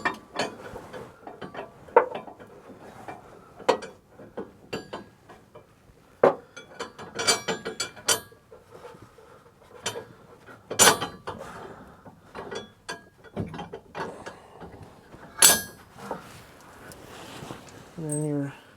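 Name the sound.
ratchet tightening the last bolts of a gooseneck hitch on a Ford F-350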